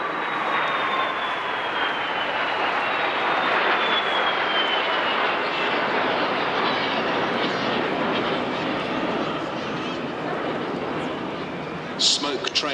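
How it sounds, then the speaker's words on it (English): Three BAC Strikemaster jet trainers trailing smoke at the Clacton Airshow sweep past from the pier end, a loud, sustained jet roar that swells and slowly falls in pitch over about twelve seconds, with faint voices beneath. "that gorgeous sound of the 3 aircraft as they flew from the pier end past us on the commentary point"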